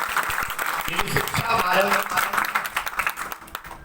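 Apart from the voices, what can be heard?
audience applause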